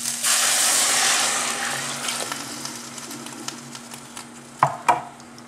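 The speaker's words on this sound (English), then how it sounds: "I'm going to add the water." Water pours into a hot pan of pearled rice for oven-baked yellow rice, a loud hissing, bubbling rush that fades over a few seconds, followed by a couple of sharp clinks of a spoon scraping the pan.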